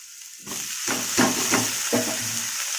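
Chowmein hits a hot pan with onion and chopped chilli, bursting into a loud, steady sizzle after a quiet start, with several scraping stirs cutting through the frying hiss.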